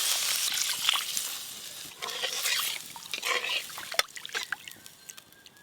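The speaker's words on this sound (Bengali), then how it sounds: "মাছ রান্নার জন্য মশলা কষা হয়ে গেছে, এবার জল দেব" Water is poured into cooked fish curry masala, a close gurgling trickle and slosh that runs for a few seconds and then tapers off.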